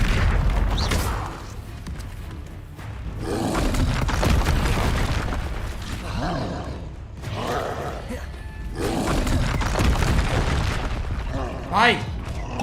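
Confringo fire-spell blasts in Hogwarts Legacy land as repeated booming bursts amid continuous battle noise, with a voice talking over much of the action.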